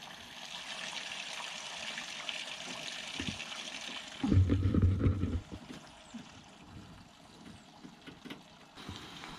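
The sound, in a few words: water running through camper tanks being rinsed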